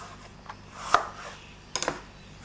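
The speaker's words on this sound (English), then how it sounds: "Just going to cut these into thin slices like that." A knife cuts apple quarters into thin slices on a board, giving a few soft, separate cuts, quiet and close, with no talk.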